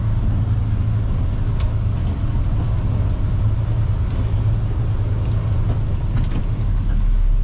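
A truck rumbles steadily as it pulls off a congested road, a constant low engine drone and road noise heard close from inside the cab, with no talk.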